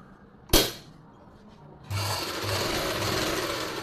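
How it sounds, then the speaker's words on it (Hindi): A sewing machine stitches a straight seam on a hip plazo garment at a boutique, starting after a sharp click with a steady, rapid whirring run that continues to the end, close and without talk. "यहाँ से एक सीधी सिलाई लगा लेंगे"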